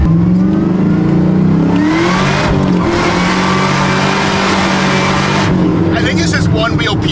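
A loud supercharged LS3 V8 race truck engine revs hard and steadily with a rising whine, one rear wheel spinning and tires ripping through the noise, while voices talk over it.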